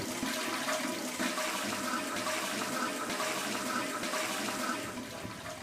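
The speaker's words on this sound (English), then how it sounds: "And everybody flushes at the same time and the toilets work" Several toilets flush together in a stadium restroom at a football game, a loud sustained rush and gurgle of water filling the space steadily for several seconds, no voices.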